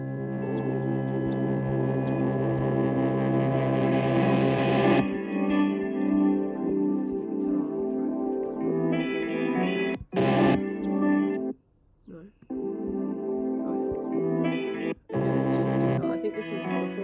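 Reversed audio of a song's final moments, with guitar run through an amp echo and tremolo, swelling in a backward build-up and then breaking into choppy stops and restarts, with no voices.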